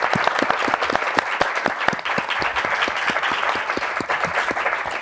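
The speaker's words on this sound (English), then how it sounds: "Please, a big round of applause for everyone." Audience applause at the close of a panel discussion on learning spaces, sustained dense clapping from a room of people, fairly close and steady for the whole stretch with no talk.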